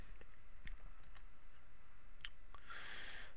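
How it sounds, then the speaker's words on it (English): A computer mouse clicking at close range, a few brief faint ticks spread over steady background hiss, ending in a short burst of brighter noise, with no talking. "So we'll just go ahead and click edit."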